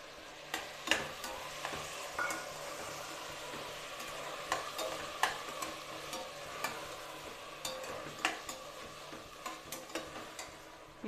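Indian tempering for tomato bath with soaked peas and chopped tomatoes, sizzling steadily in a pan while a spoon scrapes and stirs in repeated sharp clicks, close and alone without talk.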